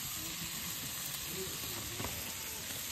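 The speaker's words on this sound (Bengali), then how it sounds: "পেঁয়াজটা একটু লাল লাল করে ভাজছি।" Onions fry on a wood fire with a soft, continuous sizzling hiss and a few faint crackles and stirs.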